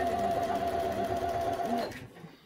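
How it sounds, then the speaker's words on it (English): A sewing machine stitches fabric for a homemade face mask, a steady fast mechanical whir with a rhythmic needle patter that stops abruptly near the end. "So just push it up as you're sewing."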